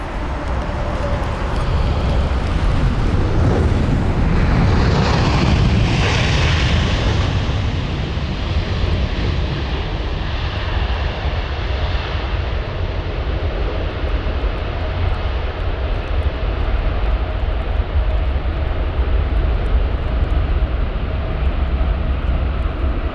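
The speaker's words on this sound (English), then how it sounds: "So that was flight number VS301 on board that Virgin Atlantic 7879 Dreamliner" A Virgin Atlantic Boeing 787-9 Dreamliner landing at London Heathrow roars loudly as it passes, its broad jet-engine rumble swelling and then easing into a steady distant whine that fades over the following seconds.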